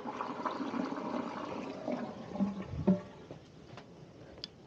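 A household toilet flushing, its water rushing and gurgling in a drain line being checked for a house trap blockage; a steady wash of water with a few louder gulps near the end.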